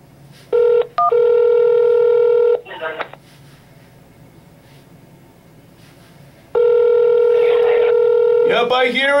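A telephone ringback tone sounds through the line in two long rings separated by a pause, loud and steady, with a voice starting at the very end.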